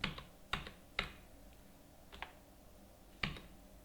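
Sparse keystrokes on a computer keyboard: about six crisp clicks at irregular intervals, close and quiet, with near-silence between them.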